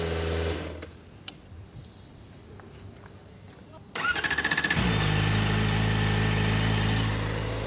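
Kawasaki ZX-4RR motorcycle engine cranking to life after a few seconds of quiet shuffling, then settling into a loud, steady, high-pitched idle close by.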